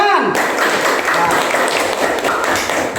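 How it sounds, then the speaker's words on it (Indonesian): A class in a lesson on the Prophet Muhammad applauds a correct quiz answer with dense, close clapping that fills the whole stretch after a brief opening. "Ya betul, tepuk tangan."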